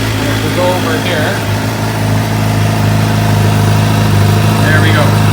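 A Suzuki GSXR motorcycle engine running at a steady idle, close by and loud throughout, with someone talking over it during a coolant flush.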